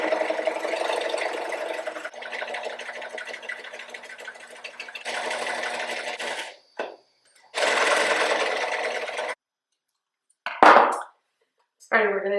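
A sewing machine stitches around the edge of a reversible apron in long steady bursts of fast mechanical whirring, stopping and restarting several times with short silent gaps, close and loud.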